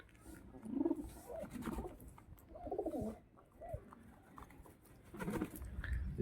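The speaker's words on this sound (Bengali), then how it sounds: "চারিদিকে দেখো শুধু খরগোশ খরগোশ পায়রা সব একসাথে, আর চারিদিকে শুধু পায়রা।" Pigeons gathered in a flock with rabbits, soft throaty cooing in several bursts with light pattering and fluttering between, fairly quiet and close.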